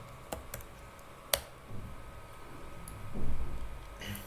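A few scattered computer keyboard key presses, faint and close, in a quiet room while a command is typed.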